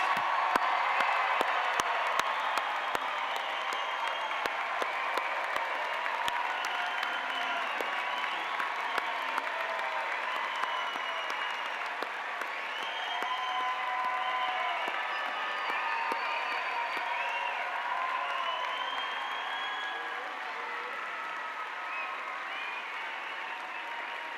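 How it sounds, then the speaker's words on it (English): A large audience at a 2018 law school commencement bursts into sustained applause for the graduates, with whoops and cheers rising over dense clapping that stays steady and loud throughout. "Let's have another round of applause for all of our graduates."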